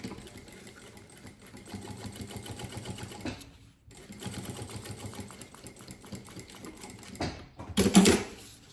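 A sewing machine runs a safety seam along the sides of a small mini suitcase, steady rapid stitching bursts with a short pause midway, then a louder clattering stop near the end.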